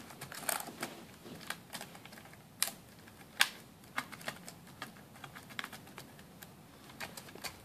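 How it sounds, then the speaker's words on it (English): Keyboard of an Asus Eee PC 1005HA netbook being laid in and pushed down into place, a series of light plastic clicks and taps at irregular intervals, close and fairly quiet, with no talking. "put the keyboard back in bottom in first, lay it down, push it down, should pop back in place"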